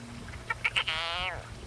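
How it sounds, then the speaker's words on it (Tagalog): A frog caught by a snake gives a short, strained cry: a few brief squeaks followed by a longer wavering wail, faint over a quiet background. "Umiiyak na yung palaka."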